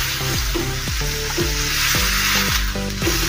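Yogurt being mixed into onions in a hot pan for a dahi pyaz sabzi, a steady loud sizzle with rhythmic scraping strokes of a spoon, repeating about every half second, no voices.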